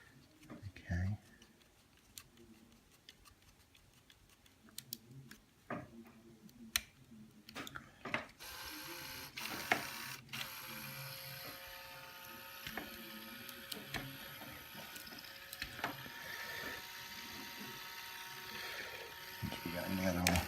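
Lego Technic 8480 space shuttle mechanism turning, with plastic gears clicking and ratcheting while slack rubber O-rings slip, faint and close; someone talks over the mechanical ticking.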